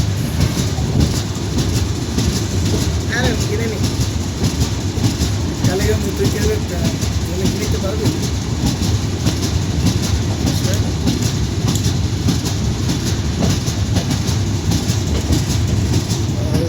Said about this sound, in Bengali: আমাদের ট্রেন প্রবেশ করছে কমলাপুর রেলওয়ে স্টেশনের দিকে ট্রেনটা অনেক স্লো যাচ্ছে